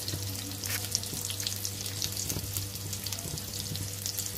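Onions frying in oil in a pan on a stove, a continuous close crackling sizzle with a faint low hum underneath and occasional soft pops, no one speaking.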